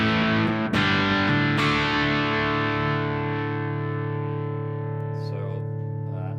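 A distorted electric guitar through a Bogner XTC 100-watt EL34 tube amp on its lower-gain blue channel rings out with a few strummed hits, then a long sustained chord that slowly decays, thick and saturated.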